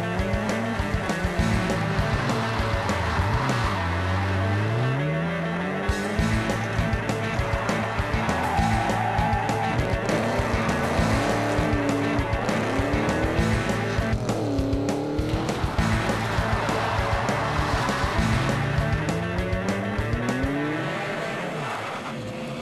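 Rally cars at the 2006 Alphera Dutton Rally roar and rev through a tight bootlegger's hairpin on the handbrake, tires squealing and skidding as engines rise and fall, loud and continuous throughout.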